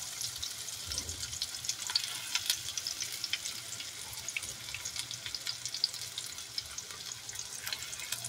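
Onion sizzles quietly in hot oil with garlic for pancit, giving a faint, steady crackle with small pops and light stirring and no talking.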